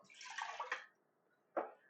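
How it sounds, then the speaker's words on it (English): Ramen broth base poured from a bowl into an Instant Pot pot: a soft, close liquid splash lasting under a second, then a quiet pause and one short final splash. "Alright, so this is the base. Gonna be pouring it into our InstantPot pot."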